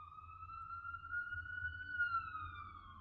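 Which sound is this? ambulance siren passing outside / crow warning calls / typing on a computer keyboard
ambulance siren passing outside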